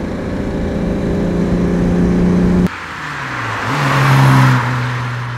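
A 1962 Jaguar E-Type Series 1 3.8 Roadster pulls hard uphill, its engine note rising under load, then easing briefly before climbing again. The car is loud and close, with no talk over it.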